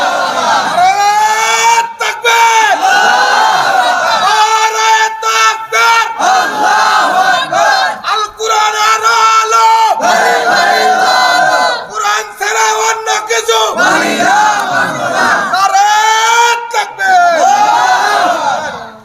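A large crowd at a religious sermon shouts the takbir response in loud, repeated collective bursts, the roaring voices rising and breaking off several times.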